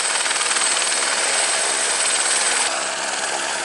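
Helicopter at a mountain camp on Denali in Alaska, a dense, steady rotor and engine roar that stays loud throughout without any voices.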